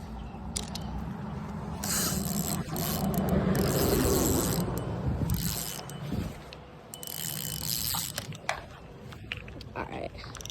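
A fishing reel with a loosened drag clicks in rapid ratcheting bursts as line is pulled out while fishing in a park, with mechanical winding and some talking mixed in.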